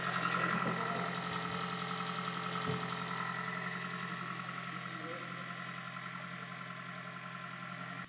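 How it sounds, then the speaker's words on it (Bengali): A 2019 Toyota Voxy hybrid's engine runs steadily after switching over from electric drive, a constant mid-pitched hum with faint vibration that stays even and close throughout. "এইমাত্র গাড়িটা ইঞ্জিনে ডাইভার্ট হলো। ইঞ্জিনের সাউন্ড আপনারা জাস্ট একটু শুনেন,"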